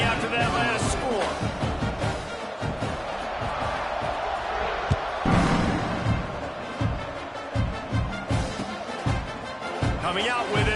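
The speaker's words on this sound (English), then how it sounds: "this crowd is buzzing after that last score" A crowd at a football game right after a score and extra point rumbles as a dense, busy murmur with scattered thumps and rises, heard under near-constant announcer talk.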